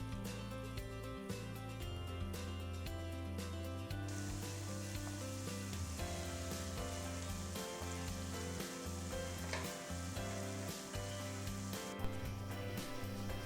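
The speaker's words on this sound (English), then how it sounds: "Put in the shallots. Keep stirring for an even browning." Shallots stirred in hot oil give a soft, continuous sizzle that sits under steady background music, with light scraping now and then and no voices.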